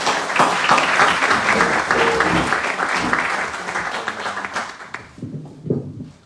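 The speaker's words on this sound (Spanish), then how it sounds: "Así que démosle un caluroso aplauso a Daniel y a Max, que lo van a entrevistar." Warm applause from an audience at an inaugural research lecture, a loud, dense round of clapping that fades out over the last couple of seconds as a voice begins speaking.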